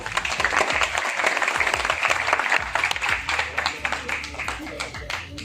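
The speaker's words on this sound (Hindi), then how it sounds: "अब जो तालियां बजेगी वो आपके लिए बज रही हैं। प्लीज मारिए जरा जोर से।" Audience at a talk clapping together, a rhythmic burst of many hands swelling and thinning, with a voice talking over it.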